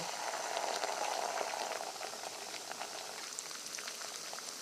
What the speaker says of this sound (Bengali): পেঁয়াজ ভাজা হয়ে গেছে, এবার মশলা দিয়ে দেবো।